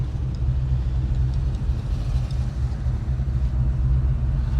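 The engine of a 1968 J-code Ford Mustang Fastback idles close by with a deep, steady, continuous rumble, heard alone without talk.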